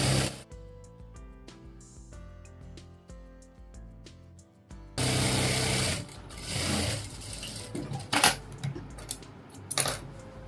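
Sewing machine stitching ladies' pants, first a quiet stretch of rapid mechanical ticking, then a loud burst of fast continuous stitching with clattering knocks.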